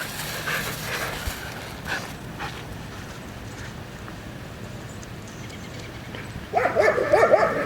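Dogs bark while playing, with scattered faint yips and scuffles early on, then a burst of loud, close, repeated barking near the end over outdoor background noise.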